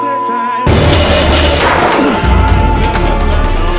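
A bomb detonates with a sudden loud boom, followed by a sustained crashing roar of debris and rumble that fills the rest of the moment.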